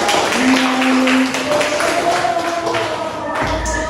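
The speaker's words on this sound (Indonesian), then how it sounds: "tepuk tangan buat kelompok 1" A class applauds one of its student groups. The clapping is dense, steady and fairly close, and it stays broad and continuous throughout with no talk over it.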